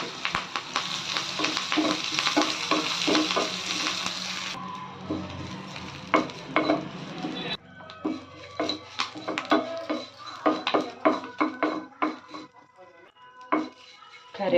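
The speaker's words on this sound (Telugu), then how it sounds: "కరివేపాకు కూడా వేగిపోయింది." Curry leaves frying in a pan for kobbari pachadi tempering, after dried red chillies: a close, steady crackling sizzle with scraping stirs and utensil clinks, dropping quieter partway as the heat settles.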